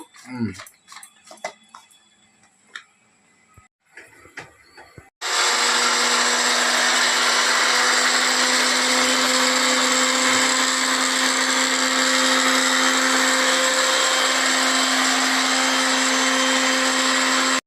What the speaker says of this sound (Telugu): ఇది పట్టేస్తాను మిక్సీ పట్టేస్తాను